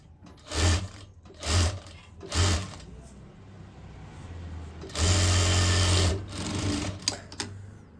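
An electric sewing machine stitches the neckline of a sleeve-cut blouse in three short bursts, then one long steady run and a shorter one, each with a low motor hum and rapid needle clatter, close and without talk.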